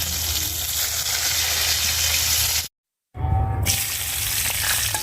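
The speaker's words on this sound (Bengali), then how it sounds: "মাছটা তো খুব কড়া করে ভেজে ফেলছি" Fish frying hard in a pan for fish bhuna, a loud steady crackling sizzle that cuts out briefly, then resumes just as strongly.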